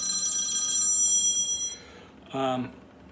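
A telephone rings with a bright electronic trill, one long ring followed by a shorter burst after a brief gap, fairly close and clear, with no talk over it.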